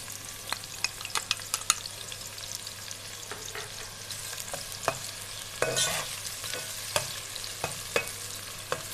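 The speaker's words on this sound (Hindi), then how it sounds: "और अदरक लहसुन का पेस्ट डाल के इसे अच्छे से भून लेंगे।" Onions with ginger-garlic paste fry in hot ghee for chole, giving a steady low sizzle broken by frequent sharp scrapes and clicks of stirring, with no talking.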